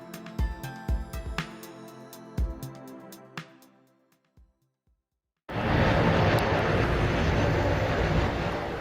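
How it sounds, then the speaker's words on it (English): An airplane landing at Rzeszow airport in Poland: a pause gives way to a loud, steady roar that fills the rest of the clip, with no talking heard. "Another successful landing."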